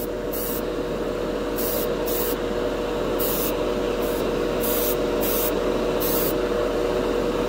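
Golden High Flow acrylic primer sprayed onto plastic through a small-needle airbrush: repeated short bursts of hiss, about nine in quick irregular succession, over a steady low compressor hum.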